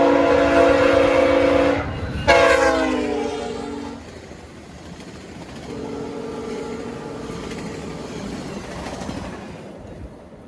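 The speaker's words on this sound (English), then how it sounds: "Train." A passenger train led by a P42 locomotive passes at Brockville, its loud horn blasting in sustained tones, then sounding again more distantly as the wheels and cars rumble by steadily.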